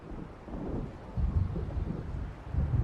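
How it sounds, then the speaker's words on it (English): An approaching storm in the Alan Wake video game: low rumbling wind and distant thunder rolling in heavy swells, deep and murky, with no talking. "It seems there's a storm coming."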